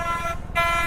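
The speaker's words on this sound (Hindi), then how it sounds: "ये अगर आपको हॉर्न सुनाई दे रहा है, ये बस है।" A bus horn blares steadily with a brief dip midway, loud and close, over rumbling traffic noise on a road in India.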